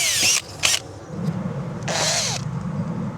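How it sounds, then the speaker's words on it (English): A power drill with a step bit bores out a hole in splintery fiberglass, two short whining bursts followed by a longer loud run, close by and alone. "we'll open the hole up gradually with a step drill"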